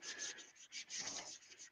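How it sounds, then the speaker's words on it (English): Sandpaper rubs by hand over a turned wooden bowl in quick back-and-forth strokes, a soft, close, rhythmic rasping with slight pauses between passes. "always sand them by hand before I start sanding with the next grit"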